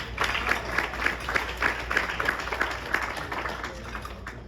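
Light, scattered clapping from dinner guests at a charity fundraiser, fairly faint and uneven, with individual claps standing out in a loose rhythm.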